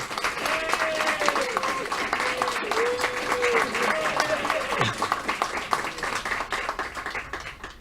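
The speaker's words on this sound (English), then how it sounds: "So a big round of applause to Mike Dixon." A round of applause at the Pentamind World Championship victory ceremony, hands clapping steadily throughout at moderate loudness as a voice talks over the crowd.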